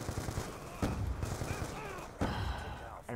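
Two sharp, loud shotgun blasts from a first-person shooter, Black Ops 2, about a second and a half apart, each booming then decaying over busy game noise and faint background sounds.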